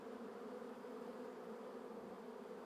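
A steady, dense buzzing of many honey bees, constant and fairly close, with no pauses or other sounds.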